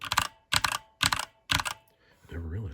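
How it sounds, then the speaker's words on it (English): Typing on a Chromebox keyboard whose keys make a spring ping gives four evenly spaced bursts of clicky key presses, close and crisp, followed by a brief voice. "You can really hear this spring ping."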